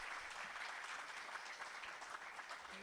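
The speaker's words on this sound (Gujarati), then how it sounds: "એક તો જોરદાર તાળીઓ હિતેશ વ્યાસ માટે થઈ જાય" A steady wash of audience applause fills a poetry gathering, dense and even from start to finish, moderately distant and not rising or fading, with no voices above it.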